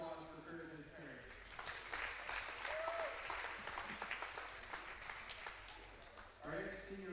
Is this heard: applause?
yes